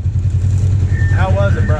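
An off-road vehicle idles and putters on a trail, a steady low engine thrum, with a person speaking over it in the second half.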